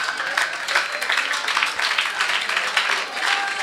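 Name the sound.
audience applause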